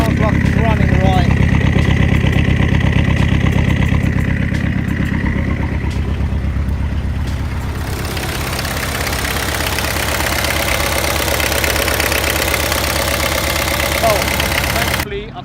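A Peugeot 306 turbo diesel engine idles steadily and close by, a continuous loud low clatter with a slight shift in tone partway through.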